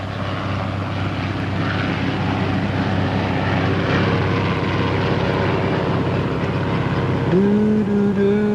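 A helicopter in flight in a movie, a loud continuous rotor and engine drone filling the scene, with a rising tonal whine entering near the end.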